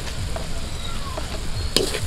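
Kinamatisang tuyo, dried fish with tomatoes, sugar and seasoning, being stirred in a pan outdoors, a steady close sizzle with soft intermittent scraping and one sharper clack near the end.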